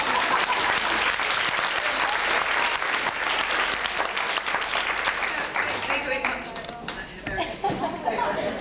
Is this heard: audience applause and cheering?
yes